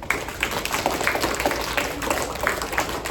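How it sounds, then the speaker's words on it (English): A school audience at a fourth-grade play claps for the actors, a scattered patter of many hands at moderate distance, steady and unbroken for a few seconds. "let's give a round of applause to our actors up here"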